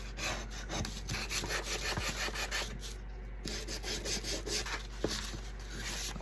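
Sanding or rasping along the edges of a wooden frame to distress it, a steady run of close, quiet scraping strokes with no talking.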